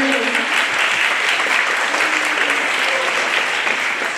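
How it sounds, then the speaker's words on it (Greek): Steady applause for Marina rises from an audience at a Limassol music school presentation, many hands clapping in a dense, even wash that carries on for several seconds without pause. "Ναι, είναι και χειροκρότημα για τη Μαρίνα."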